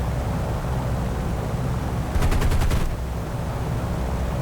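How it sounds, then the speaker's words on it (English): B-25 bomber gunners fire a short machine-gun burst in a video game, about seven rapid evenly spaced shots standing out over the constant loud drone of the aircraft engines. "So if he does get close, my gunners will just engage him."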